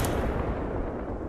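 Gunfire in the video game Apex Legends, heard as a dense, continuous roar of shots and booms that fills the whole moment at moderate loudness, with no talk.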